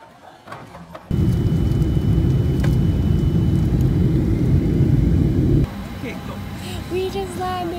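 A loud, steady jet engine roar of an airplane landing fills most of the clip, then drops sharply, leaving a lower hum with faint chatter.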